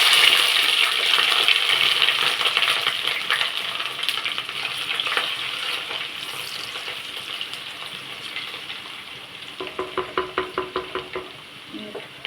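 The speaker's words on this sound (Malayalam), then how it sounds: "കടുക് പൊട്ടി" Mustard seeds splutter in hot oil, a dense crackling hiss that thins out and ends in a quick run of sharp popping bursts near the close.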